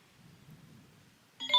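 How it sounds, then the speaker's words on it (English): Burst of bright electronic notification beeps from a phone regaining cell service, arriving abruptly at the end after quiet low rumble, loud and stacked close together. "My freaking phone, I just got service back, so my phone's going crazy"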